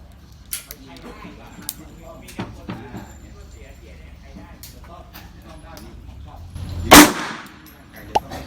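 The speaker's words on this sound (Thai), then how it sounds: "เดี๋ยวจะยิงบุลเลตก่อนนะฮะ" A single sharp, loud gunshot from a .32 ACP (7.65 mm) pistol firing Thai-made Bullet Master ammunition, set against quieter outdoor background clatter and scattered small clicks and taps.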